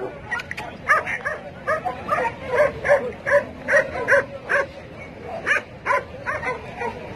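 Labrador dogs, including a four-month-old puppy, bark repeatedly at a Sunday animal market in Casablanca, Morocco. The short, sharp barks come close by in an irregular run, with faint market murmur beneath.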